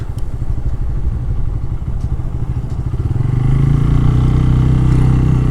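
A Bajaj Pulsar N160 motorcycle cruising gently on a road past a police checkpoint, its engine a steady loud rumble that rises slightly in pitch and strength toward the end, with no voices.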